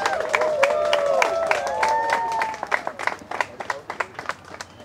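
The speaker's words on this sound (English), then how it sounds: "Give him a better cheer than that." Wedding guests applauding and cheering at a reception at Mulino's at Lake Isle, New York; dense clapping with whoops rises, then thins to scattered claps by the end, while a voice carries over the crowd noise.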